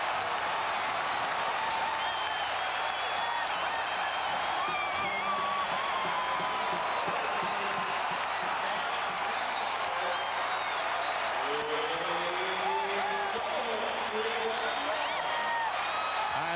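Dense arena crowd at an Iowa State versus Kansas college basketball game roaring and applauding steadily for the full stretch, a broad sustained wash of cheers and clapping with scattered whoops and an announcer's voice rising over it near the end.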